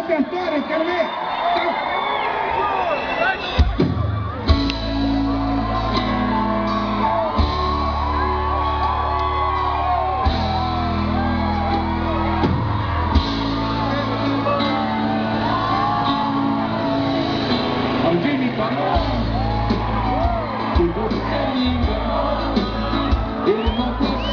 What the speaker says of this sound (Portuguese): Mais uma aplauso do nosso